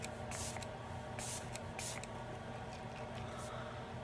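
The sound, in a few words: Item Beauty One Hit setting spray being sprayed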